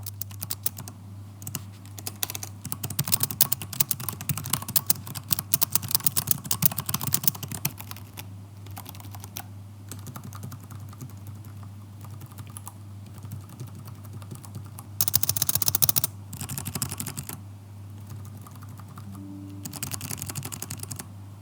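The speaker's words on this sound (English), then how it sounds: "So here's an audio test on how the keyboard sounds like." Typing on the keyboard of an MSI Titan GT77 HX 13V gaming laptop: a fast, steady clatter of keystrokes that later thins into sparser taps and short louder flurries, close up over a low steady hum, with no talking.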